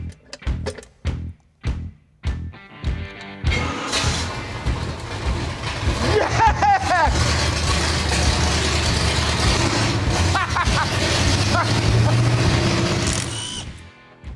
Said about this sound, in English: it was actually spitting oil out of the headers and only running on 5 cylinders